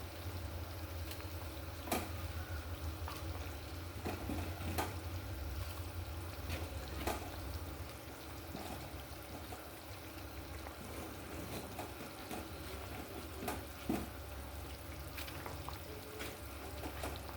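Fried banana koftas simmer in a kadai of sauce, a steady low bubbling and soft sizzle with occasional clinks and taps of a utensil, close and quiet.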